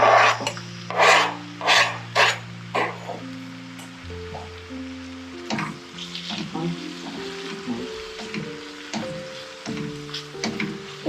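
Chopped onions, two of them, drop into hot oil and burst into loud sizzling, then settle into steady frying with light stirring scrapes while music plays underneath.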